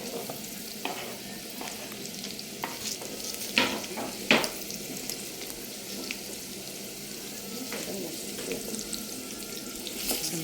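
Sliced onions fry in plenty of hot oil, stirred with a wooden spoon: a steady close sizzle with occasional louder scraping strokes and clatter.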